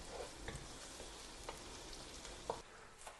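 Onions braise in a pan for a creamy chicken dish, giving a faint, steady low sizzle with a few soft scrapes of stirring scattered through.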